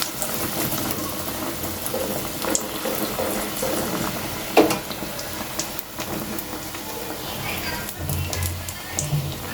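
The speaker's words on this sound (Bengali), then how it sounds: "এখন এই তো বেসন দিয়ে ভেজে নেব" Food coated in gram flour (besan) fries with a steady hissing crackle, broken by occasional utensil clinks and clatter, while a person talks.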